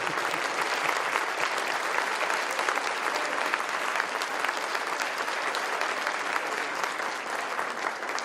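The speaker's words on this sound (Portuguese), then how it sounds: "eu desejo a ele uma salva de palmas e parabéns" A conference audience at a closing keynote gives a round of applause for a doctor's birthday, dense and loud clapping from a large crowd that holds steady and full for the whole stretch.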